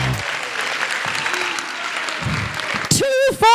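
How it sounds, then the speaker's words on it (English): Steady applause from a crowd at a charity gala auction fills most of the moment, then stops as a voice begins speaking near the end. "Give them all a round of applause."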